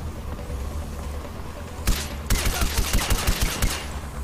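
Rapid bursts of gunfire from a weapon in Far Cry 4, a single loud shot followed by a fast run of sharp, close automatic reports, fairly loud over steady game ambience.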